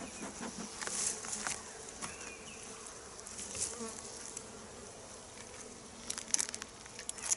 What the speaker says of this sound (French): J'enfume un tout petit peu pour qu'elles pensent à bien descendre au fond de la ruche